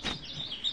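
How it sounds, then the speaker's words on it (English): A hooded warbler call from a Wild Republic Audubon plush bird toy, a brief, high, thin chirping song played alone at moderate volume. "hooded warbler"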